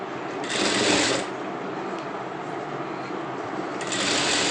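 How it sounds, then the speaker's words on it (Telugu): Sewing machine stitching a doubled, folded blouse lining, a steady high whirring run in two short bursts separated by quieter handling. "ఇలా డబుల్గా ఫోల్డ్ చేసి ఇలా ఇక్కడ ఒక కుట్టు వేసుకుందాం"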